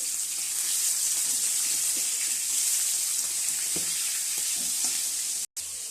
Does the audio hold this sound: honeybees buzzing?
no